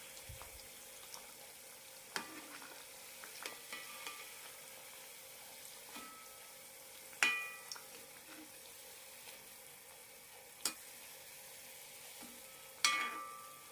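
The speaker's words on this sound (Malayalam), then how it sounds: "ലോ ഫ്ലെയിമിലിട്ടിട്ട് വേണം വറുത്തെടുക്കാൻ ഇല്ലെങ്കിൽ പെട്ടെന്ന് കരിഞ്ഞു പോകും" Bread samosas frying in oil over a low flame, a faint gentle sizzle with occasional clicks and taps of a utensil, quiet and close.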